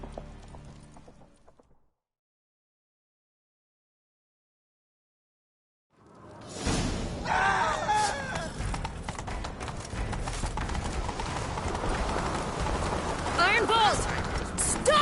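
Hooves of a galloping horse in The Witcher 3 pound in a fast, loud, steady rhythm after a short silence, with game voices speaking over them.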